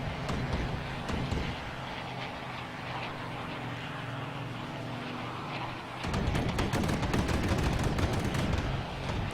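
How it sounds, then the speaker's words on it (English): Aircraft machine guns fire in Microsoft Flight Simulator X over a droning piston engine, with rapid bursts of gunfire rattling out loudly and growing denser in the final seconds. "Someone's decided to fire the guns."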